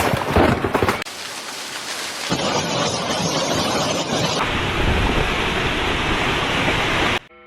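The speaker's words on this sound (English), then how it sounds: "roof tiles shattered as the hail poured down in heavy bursts" Hailstorm in China pouring down in heavy bursts, smashing roof tiles: a loud, dense, continuous roar that abruptly shifts in intensity, with no voices.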